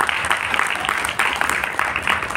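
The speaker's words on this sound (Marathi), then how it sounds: "आपण एकदा जोरदार टाळ्या या कवींसाठी वाजवल्या पाहिजे" An audience at a poetry gathering claps for the poets in a dense, steady burst of applause that continues throughout at close range.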